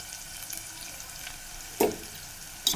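Onions half-sautéed in a pan for a Tamil garlic kuzhambu make a faint, steady sizzle, with two sharp clinks of a utensil near the end.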